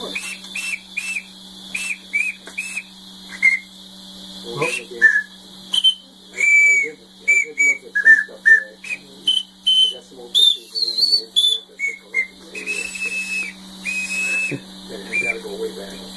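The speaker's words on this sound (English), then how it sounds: "Bill, play the organ there." A homemade whistle organ with handmade valves plays a slow tune, a sequence of clear sustained pipe whistles of varying pitch, with short gaps, valve hiss and a few soft voices in the background.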